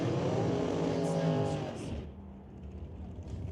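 Drag race cars, including a Roadster, running the quarter-mile, a loud rising engine howl with stacked harmonics that cuts off after two seconds, leaving a quieter rumble, with an announcer talking over it.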